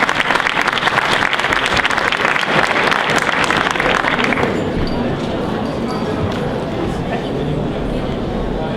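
A crowd at an outdoor flag raising ceremony applauds Mr. Ben Sinek, a dense loud burst of clapping that thins and fades after about four seconds into softer scattered claps and murmur.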